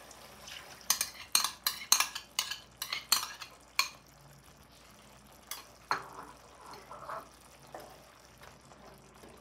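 A utensil stirs cornstarch into milkfish with tomatoes in a pan, clinking against the metal in a quick run of close knocks. Scattered softer scrapes follow over a faint cooking hiss.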